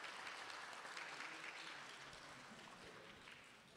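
Audience applause for performers at a live studio show in Tokyo, a steady wash of many hands clapping that fades slightly toward the end, with no voices over it.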